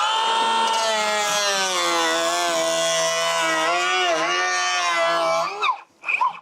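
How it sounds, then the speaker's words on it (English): An electric planer shaves a timber wall stud during house construction, giving a loud, close, steady high whine whose pitch wavers as the cut proceeds, then winds down with a couple of short bursts at the end. "The next time I'm going to start the planer a bit lower"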